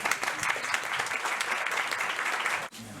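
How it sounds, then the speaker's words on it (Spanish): Applause from the audience at a book presentation, a dense, steady round of clapping from many hands, close and sustained for nearly three seconds before cutting off abruptly, followed by faint low room noise. "presentemos a Felipe con un gran aplauso"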